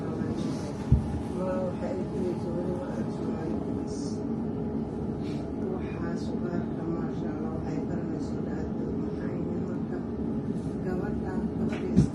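Steady rumble and rattle inside a London Overground Class 710 train on the Mildmay line, running between Kensal Rise and Hackney Central, with a continuous low drone, a sharp knock near the start and faint voices under the running noise.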